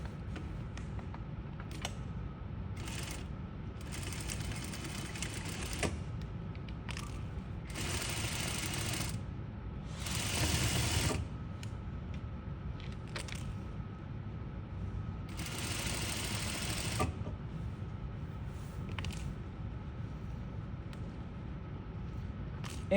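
A sewing machine stitches fabric up to a corner in several bursts of rapid, even whirring separated by pauses, close and fairly quiet, with small clicks and handling sounds between runs.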